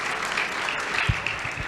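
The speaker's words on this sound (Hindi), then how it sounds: "ताली बजाएं इसके लिए।" A crowd of students at a camp in Faridabad, India, claps together in a short burst of steady, dense applause.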